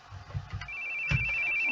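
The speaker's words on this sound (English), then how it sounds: "I hate hearing phones ring." A cell phone rings in a horror video game, a steady electronic tone starting partway through and holding on, over low background sounds and a brief thump.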